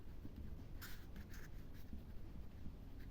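Pen writing on paper during a math lesson, faint scratchy strokes in short bursts against a steady hiss of room noise, close but quiet, with no talking.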